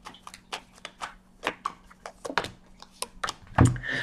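Tarot cards shuffled by hand in a quick series of crisp, papery riffles and taps, close and fairly loud, with a heavier thump near the end and no talking.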